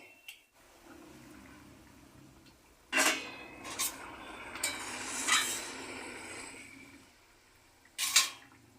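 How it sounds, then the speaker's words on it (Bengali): Fish pieces go into a pot of boiling liquid, with several distinct splashes and clattering pot sounds spread across a quieter, bubbling background. "মাছগুলো এবার আমি দিয়ে দিচ্ছি"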